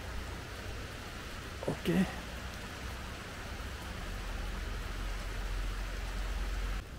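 Steady rain hisses over a wide area, with a voice speaking briefly near the start before the constant downpour continues alone.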